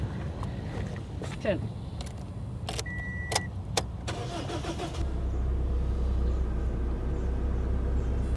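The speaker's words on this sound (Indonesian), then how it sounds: "nah sekarang aku mau hidupkan mobil AC-nya dulu" A car engine cranks and settles into a steady, low running drone about halfway through, with the air conditioning set to run, after a stretch of clicks and interior rustling close by.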